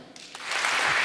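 Applause from a hall audience rises from a scattered start into dense, sustained clapping that swells and holds steady to the end.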